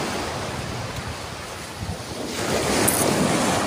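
Ocean waves breaking on a beach, a steady broad wash of surf with heavy wind buffeting the microphone, swelling louder toward the end.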